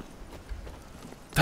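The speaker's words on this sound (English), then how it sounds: "can I call my horse here?" Faint, muffled thuds of horse hooves in the video game The Witcher 3 ending in a sudden louder burst of noise, with no one talking.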